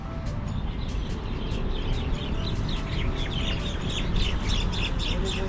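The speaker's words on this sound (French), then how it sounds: "les oiseaux ils s'énervent là" Agitated birds squawk and chirp in a noisy flock outdoors in Chiang Rai, Thailand, with rapid overlapping sharp calls repeating constantly over a steady rumble of background ambience.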